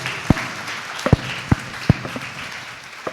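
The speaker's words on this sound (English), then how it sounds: "So help me appreciate them with a round of applause" Scattered, sparse applause for panelists at a breakfast summit: a few distinct loud claps stand out over a soft background of distant clapping from the audience, spread unevenly across about three seconds.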